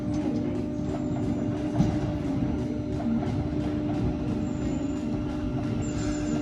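New train arriving at Moorgate station, a steady loud rumble of rolling wheels with faint squeals and a constant motor hum, heard close from the platform.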